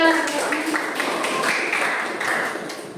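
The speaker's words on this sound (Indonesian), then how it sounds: "Tepuk tangan buat kita semua." Classroom applause from students, a brief burst of clapping with sharp rapid hand claps, mixed with a teacher's voice speaking over it.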